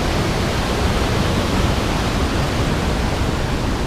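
Long Slide Falls, a waterfall in Wisconsin, pours in a loud, continuous broadband roar heard up close, steady and unbroken with no voices.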